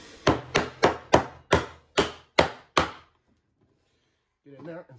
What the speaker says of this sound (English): Take my mortise chisel.